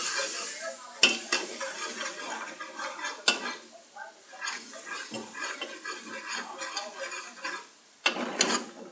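Spices with red chili and turmeric powder roasting in a pan for daal maash, a soft low sizzle punctuated by sharp scrapes and knocks of a spoon stirring at irregular intervals, with some quiet speech.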